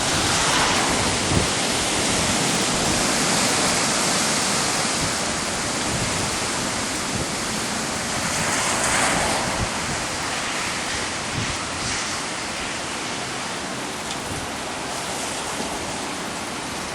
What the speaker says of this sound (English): You can see the wind's coming in gusts.